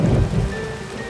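Heavy rain falls steadily, and a deep roll of thunder opens the passage and then fades under the constant downpour.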